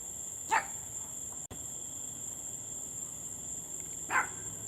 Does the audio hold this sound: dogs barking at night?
yes